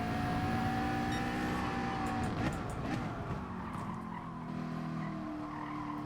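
A race car in Gran Turismo Sport holds a sustained engine whine with tyre squeal layered over it as worn tyres scrub through corners; the sound is steady and moderately quiet throughout.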